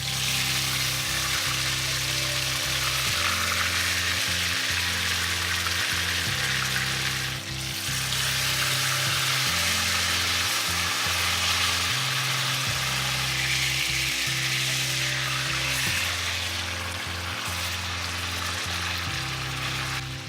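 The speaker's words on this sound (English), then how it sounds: "add some vegetable oil in the pan, and sear the pork until it's golden brown on both sides" Pork searing in vegetable oil in a pan gives a loud, steady sizzle and crackle that runs unbroken for about twenty seconds, with a low repeating tone underneath.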